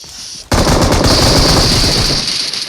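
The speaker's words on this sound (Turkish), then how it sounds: "Gördüğünüz kimi çox yaxşı çatışmalar edirik." Rapid automatic gunfire erupts in a PUBG Mobile gunfight, loud and sustained bursts starting abruptly after a brief quiet and continuing without pause.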